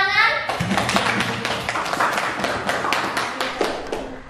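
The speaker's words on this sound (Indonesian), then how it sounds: "Tepuk tangan" A classroom of students claps hands together in a quick, steady rhythm, each clap a sharp, near tap. A brief voice comes just before the clapping begins.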